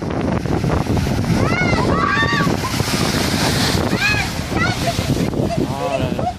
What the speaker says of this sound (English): this stunning yet dangerous spot features a rocky cliff that's constantly battered by powerful ocean waves